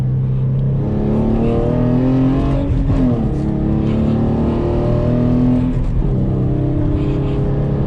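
Hyundai Genesis Coupe on Toyo tires driving with traction control off, its engine droning steadily and loudly from inside the cabin, pitch rising and dipping slightly with throttle changes.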